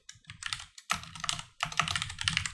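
A computer keyboard clatters in quick bursts of keystrokes, close and distinct, as a command is typed in three separate runs with short pauses between.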